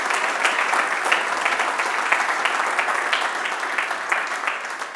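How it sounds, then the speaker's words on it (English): Audience applause at an Arduino Day 2019 event, a steady, dense wash of many hands clapping at once, sustained and even for several seconds with no voices over it. "a huge applause to all the people participating"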